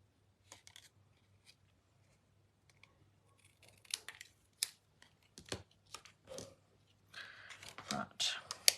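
Scissors cutting freehand through paper, a scattered series of quiet snips and rustles that grow busier toward the end, with faint low hum and soft murmuring nearby.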